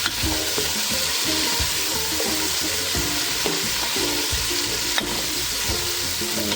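Carrots fry in a hot pan, a steady loud sizzle running throughout with repeated scraping and clattering as they are stirred, close and alone with no voices.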